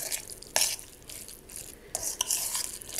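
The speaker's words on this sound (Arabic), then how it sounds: "نزيدو نخلطو فك الخليط بالكدا باش نتأكدو لي اللفاحات الكل استعملناهم كل خلطناهم في بعضهم" A spoon stirs and scrapes through an onion-based stuffing mixture for Tunisian stuffed peppers. It makes faint, close, irregular scraping strokes with brief louder swishes, and no talk.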